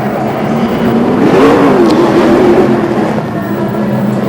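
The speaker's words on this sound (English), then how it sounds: "The sight and sound of speed car racing." Loud Speedcar Series race car engines roar and rise in pitch as cars accelerate on a circuit in the UAE, a continuous mechanical drone with a swelling whine in the middle.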